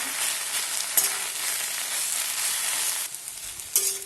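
Eight to ten green chillies and garlic fry in a pan with a steady, close hiss, with a couple of faint clinks as they are stirred.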